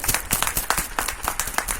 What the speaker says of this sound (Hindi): तालियों से इनका स्वागत करें